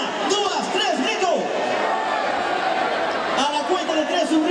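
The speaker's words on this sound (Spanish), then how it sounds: "un grito de todos los hombres" Men in the audience at an Orquesta Galilea open-air festival concert in San Pedro de Vilanova shout together on cue, a dense roaring burst of massed voices that fills the space with echoing crowd noise and scattered yells.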